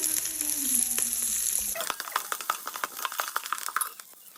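Green chilies dropped into a hot pan of oil while making plain rice vermicelli, a bright sizzle followed by sharp crackles and spatters as they fry, with no talking.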